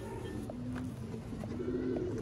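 Imported Dubai Teddy pigeons coo softly in a loft, low repeated throaty calls close together under a faint steady ambient hum.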